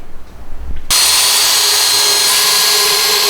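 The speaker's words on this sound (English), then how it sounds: "I'm going to drill a bigger hole" A power drill bores a larger hole through a wooden hook board for garage storage, starting abruptly after a moment of quiet and running loud and steady as a continuous high whine to the end.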